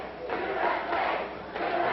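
A pro wrestling arena crowd chants USA in rhythmic rising waves of massed voices, loud and continuous with a pulsing cadence.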